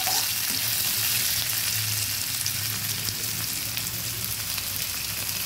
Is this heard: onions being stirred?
yes